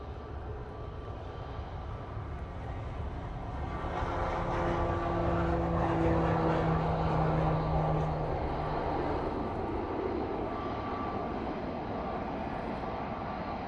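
An Air Tanker jet airliner takes off at windy Manchester Airport, a broad sustained engine roar that swells in the middle and holds steady, with wind noise throughout.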